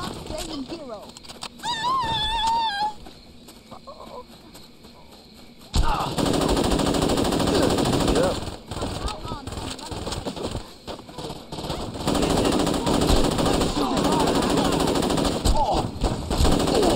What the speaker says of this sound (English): Fire in bursts when you're firing at longer ranges.